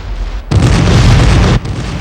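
Civil War artillery at Gettysburg booms in a heavy, loud blast that bursts in at half a second and rumbles for about a second over a constant background roar of distant cannon fire.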